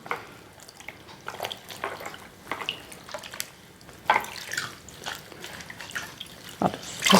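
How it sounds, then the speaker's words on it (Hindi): A towel dipped and swished in a vessel of water, giving irregular close splashes and trickling drips that come in uneven bursts, louder toward the end. "टॉवल को पानी में डिप करेंगे"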